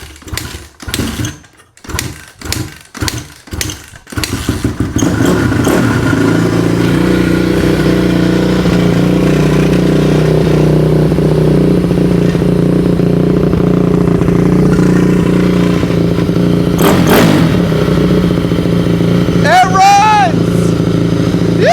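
A Honda 450cc dirt bike engine runs, preceded by several sharp pulls or kicks that sputter before it catches. A loud, steady, rattly single-cylinder idle follows with a few rises in revs, recorded up close, and a voice is briefly heard.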